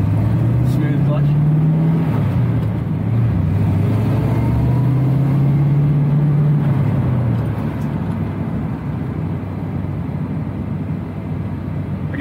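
A 1965 Ford Mustang convertible engine runs steadily up close, its low drone rising and dropping as gears shift, with a clear downshift, amid wind and road rumble under occasional talk.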